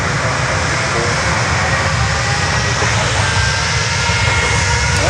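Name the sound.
aircraft taking off at Miami airport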